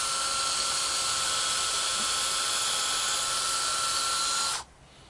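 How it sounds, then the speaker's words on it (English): A power drill bores downward at a 45-degree angle into a tree trunk to make a micro-injection hole, a steady high whine running continuously for over four seconds before stopping abruptly. "So we're going to start by drilling downwardly at a 45 degree angle."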